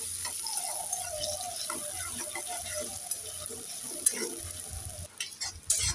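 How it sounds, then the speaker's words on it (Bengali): Chopped medium onion frying in a pan for a Bengali chapila fish mustard curry, a steady soft sizzle with faint stirring scrapes throughout, a few clinks of the spatula near the end. "পেঁয়াজটাকে আমি লাল লাল করে একটু ভেজে নেব।"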